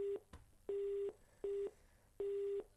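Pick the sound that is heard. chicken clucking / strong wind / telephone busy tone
telephone busy tone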